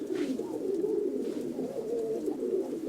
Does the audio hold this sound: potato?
no